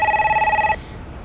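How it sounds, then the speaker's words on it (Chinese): A telephone rings with a steady electronic trill in a home, loud and close, the tone holding for about three quarters of a second before cutting off to quiet room tone. "你先去接电话吧，一会儿再说。"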